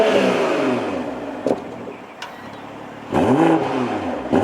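A 2021 BMW M340i engine starting up, a starter whir followed by a loud rev that settles to idle, then a second sharp rev, close and prominent with no talk.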